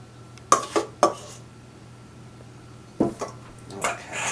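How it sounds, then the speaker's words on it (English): A spatula scraping cupcake batter from a mixing bowl for pumpkin cupcakes, heard as a few sharp clinking scrapes in two pairs separated by a quiet pause, close and fairly crisp. "take the spatula, get everything you possibly can"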